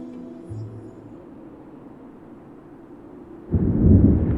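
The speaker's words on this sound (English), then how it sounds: "I hear thunder." Thunder in the Fire Emblem: Three Houses game, starting as a low, faint rumble and then swelling into a loud, deep roll near the end of the clip, with no voices.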